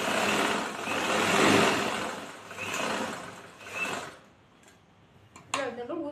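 A sewing machine stitches a chudithar in bursts of whirring that swell and fade several times before stopping, followed by faint handling noises and a brief voice.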